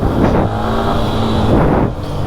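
A Yamaha R15 motorcycle on new Apollo Alpha H1 tyres runs close by, its engine droning loudly and steadily, with throttle surges near the start and again toward the end.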